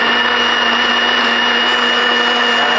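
A kitchen blender runs continuously at high speed while blending juice, a loud, steady whirring hum with no pause and no talking.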